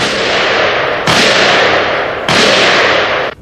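A Heckler & Koch caseless-ammunition bullpup combat rifle fires three loud, sustained bursts in close succession, each a dense roaring blast that starts sharply and cuts off abruptly.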